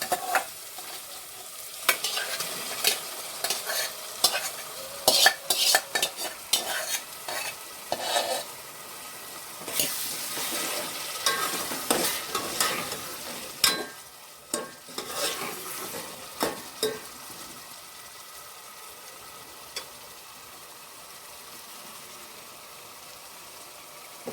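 Tomato goes into a hot frying pan for a jackfruit vegetable curry, giving a soft, ongoing sizzle with repeated scraping stirs of a utensil against the pan, quieting toward the end.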